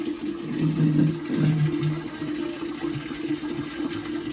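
Water gushes steadily into a fish tank, a continuous low rushing fill with slight surges near the start and no voices.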